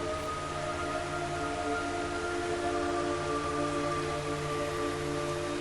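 Steady, dense rain hisses across the whole clip in Metal Gear Solid 3, with low sustained tones humming underneath like a droning game ambience.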